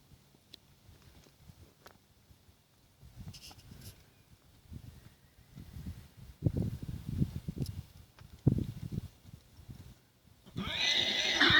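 Horses neigh and whinny near a mule during early training, a loud whinny swelling toward the end, with hoof clip-clop and shuffling throughout.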